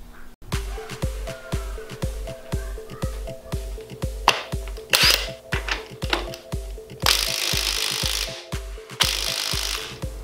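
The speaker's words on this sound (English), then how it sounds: "I'm unsuccessful at getting these bolts loose with my impact driver here" An impact driver hammers in rapid, rhythmic bursts of close, loud mechanical rattling while straining against the cylinder head bolts of a Jeep 4.0 engine, with louder, harsher bursts near the end and no talking.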